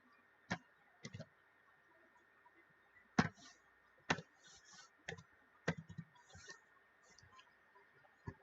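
Sparse, quiet clicks from a computer keyboard as code is typed, a handful of separate keystrokes spaced irregularly, close by, with no talking.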